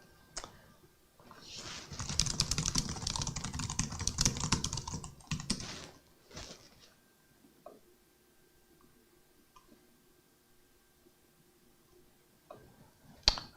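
Rapid typing on a computer keyboard, a dense burst of clicking keys for several seconds followed by a few scattered single taps in a quiet room, with no voices.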